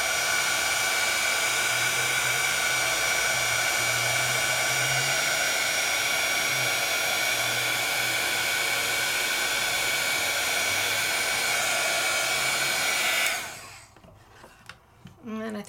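Electric heat tool blowing hot air to melt embossing powder on a stamped craft piece, a loud steady whooshing drone lasting about thirteen seconds before it shuts off abruptly, leaving faint handling noises.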